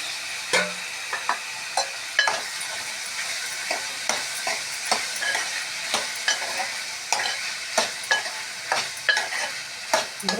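Tomatoes and vegetables for an ivy gourd curry fry softly in a pan, a quiet steady sizzle broken by frequent sharp scrapes and clicks as a spoon stirs them, with no talking.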